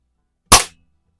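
A single sharp pellet shot from a 126-year-old Eisenwerke Gem No.13 air rifle in a garage, aimed at a splatter target: one loud, close crack that decays quickly into silence.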